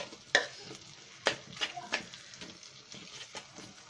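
Spices being stirred and fried in a pan for a golda chingri (prawn) bhuna: a few sharp scraping strokes of the spoon over a soft, steady sizzle, close up with no voices.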